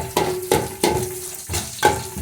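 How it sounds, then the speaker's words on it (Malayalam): Garlic, ginger, cashews and raisins fry in ghee in a pan, a close sizzle broken by four sharp scraping strokes of a stirring spoon at an even pace. "അപ്പം നെയ്യ് ഒഴിച്ചു, വെളുത്തുള്ളി, ഇഞ്ചി, അണ്ടിപ്പരിപ്പ്, മുന്തിരിങ്ങ ഇത്രയും നെയ്ക്കകത്ത് മൂപ്പിക്കുക"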